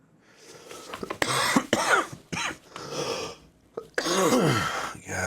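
A man coughs repeatedly, in several harsh, raspy bursts with short gaps between them. The coughs sound close and fairly loud, with a throat-clearing quality, and no other speech.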